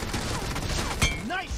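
Gunfire in PUBG Mobile, a short burst of shots standing out around the one-second mark over a busy game mix with tonal effects, while a voice comments nearby.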